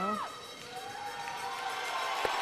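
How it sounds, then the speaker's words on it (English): Spectators cheer and shout at a Scotland versus Switzerland women's round-robin game at the European Curling Championships, a broad crowd roar rising after a winning shot, with faint voices mixed in. "a big cheer from the crowd"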